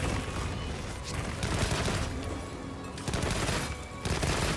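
Heavy gun in Monster Hunter Wilds firing in a dense, rapid burst of loud booming shots with continuous rumble, close and sustained across the whole stretch with brief dips between volleys.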